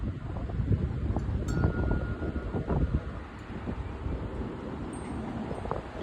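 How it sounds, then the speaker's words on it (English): Outdoor wind roaring steadily against the microphone, a constant low rumble that swells and eases slightly, with no speech. "It's all the wind you're hearing right there."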